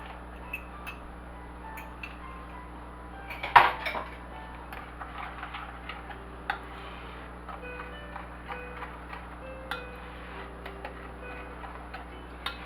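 A heavy cream mixture is beaten in a small dish, heard as a faint, fast run of light ticks over a low steady hum, with one louder clink partway through.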